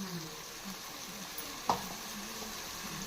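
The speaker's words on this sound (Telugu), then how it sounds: "చూడండి, ఆనియన్ ఫ్రై చేస్తున్నాను." Onions frying in a pan for a hotel-style mixed vegetable curry, a steady close sizzle with a brief clink of utensil on pan partway through.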